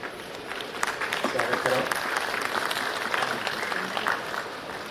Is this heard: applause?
yes